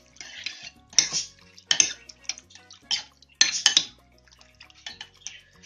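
A spoon clinks and scrapes against a bowl while ingredients with a tablespoon of vinegar are mixed, giving several sharp metallic taps and short scraping strokes in an irregular rhythm. The sound is close and clear, with no voices.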